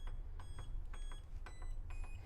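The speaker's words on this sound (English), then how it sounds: "when the cycle ends, you will also hear indicator" End-of-cycle sound indicator on a brake bedding-in machine, heard as a short series of repeated electronic beeps in an alarm-clock pattern, fairly quiet over a low hum of machinery.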